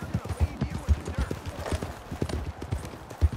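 Horses in Red Dead Redemption 2 gallop close by, hooves clip-clopping in a quick steady rhythm with occasional heavier thuds, while voices talk over them.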